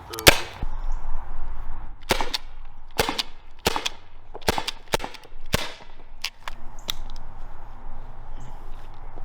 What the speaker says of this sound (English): we dry fire it just for safety